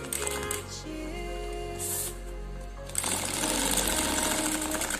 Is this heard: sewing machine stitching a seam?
yes